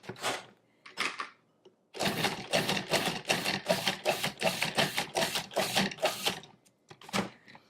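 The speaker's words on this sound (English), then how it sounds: "Next, we're going to add our tomatoes, which were seeded, and the pulp was, the interior was taken out, the seeds. And we're going to pulse that until it's finely chopped." A Custom 14-cup food processor pulses seeded tomatoes, giving a few short whirring bursts and then a long run of rapid, rhythmic chopping pulses close by, with no talking.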